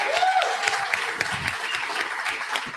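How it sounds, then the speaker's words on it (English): A small live audience at a podcast birthday party gives a short round of applause, steady clapping at moderate volume with a faint voice underneath. "Round of applause."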